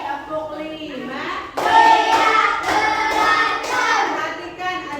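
Group hand clapping by schoolchildren in a classroom counting exercise, a run of sharp clap bursts over several seconds mixed with voices, near and loud.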